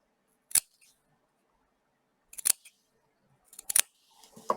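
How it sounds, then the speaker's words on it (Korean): Scissors snip fabric for an organic cotton mask in three separate crisp cuts spaced over a few seconds, close and clear against near silence. "여기 타원 부분을 가위집을 내어줍니다."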